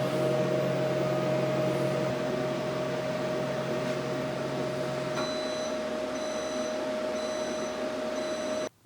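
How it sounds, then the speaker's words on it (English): A 700 watt microwave oven runs off an OUPES Exodus 1200 portable power station, giving a steady electrical hum with a fan whir throughout and a few faint beeps near the end. "This is a rated 700 watt power microwave, but it's pulling more than 1200 watts."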